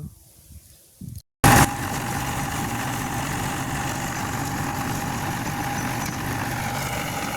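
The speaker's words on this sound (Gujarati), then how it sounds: "તરત આવી ગયું ટ્રેક્ટર જોઈ લો" A tractor engine idles in a farm field, a steady, loud, even low drone that starts abruptly after a brief quieter opening with a short gap and continues unbroken to the end.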